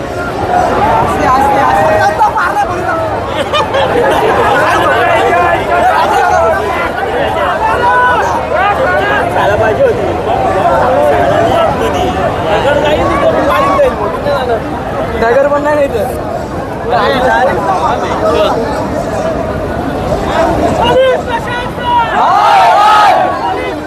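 A large crowd at a sit-in protest in Badlapur keeps up a dense, loud, continuous babble of overlapping voices.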